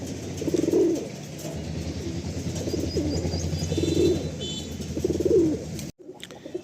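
Several low, throaty pigeon coos repeat at intervals over a steady background hum, fairly close, with no talking.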